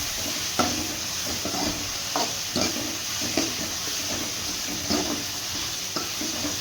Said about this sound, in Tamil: வெங்காயம் பச்சை மிளகாய் நல்லா வதங்கட்டும். எண்ணெயிலே நல்லா வதங்க வச்சிடணும்.